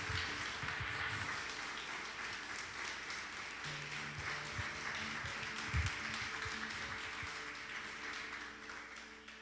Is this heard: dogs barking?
no